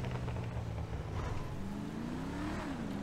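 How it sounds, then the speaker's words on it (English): Supercharged V8 engine mod on a car in GTA V, muffler delete, revs up with a rising then falling whine over a throaty, rumbling exhaust and faint crackle, steady and close for about three seconds. "It's got a muffler delete sound to it with the crackling."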